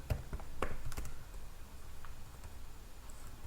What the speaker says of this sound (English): So for that I need to type student